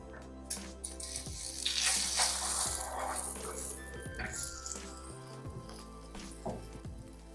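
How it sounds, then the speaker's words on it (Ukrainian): Quiet sizzling and frying in a pan as egg-dipped Chinese cabbage is placed down, with soft clinks and handling noises; no one speaks. "Занурюю частину капусти зрізану в яйце і переношу на сковорідку."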